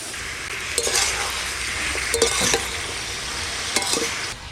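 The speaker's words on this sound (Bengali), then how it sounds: "ওলকপি দিয়ে বেগুন খুব ভালো করে কষিয়ে নিয়েছি" Eggplant and young kohlrabi sauté in hot oil with salt and turmeric for a pomfret fish curry, a steady sizzle with a few scrapes and clinks of a stirring spoon against the pan, close and alone.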